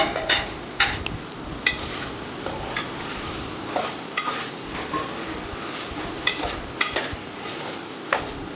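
A spoon scrapes and clinks against a pot while chicken curry with turmeric is stirred, giving irregular metallic taps over a soft sizzling background, fairly quiet and with no talking.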